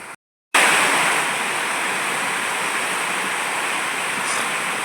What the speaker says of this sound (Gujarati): જો જો એટલો વરસાદ વરસે છે